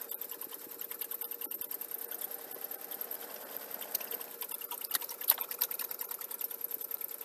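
A sewing machine runs steadily along a seam, a continuous fast rhythmic chatter of the needle at even volume, close and unbroken with no talk over it.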